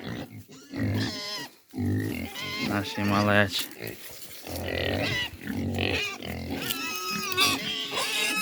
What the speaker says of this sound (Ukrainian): Хочу вам показати, як наше поповнилось стадо поросяток. Ось їм буквально 4 дні.